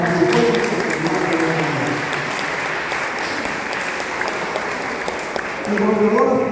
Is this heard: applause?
yes